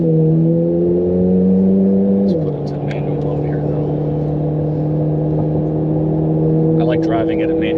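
A Corvette engine warming up near at steady idle with raised RPM, a strong constant drone that steps down slightly partway through, while people talk over it.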